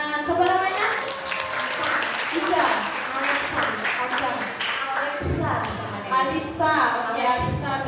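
Children clapping together during a Buddhist Sangha Dana Kathina offering ceremony: steady, busy applause mixed with children's voices chattering throughout.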